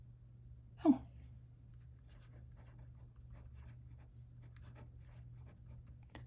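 Fountain pen with a medium Bach nib writing on paper, faint soft scratchy strokes in a quiet room, with a louder breathy sound near the start.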